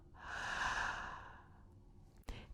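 A single long, breathy exhale from one person during a singing breathing exercise, swelling then fading over about a second and a half, followed by a short sharp intake or snort near the end.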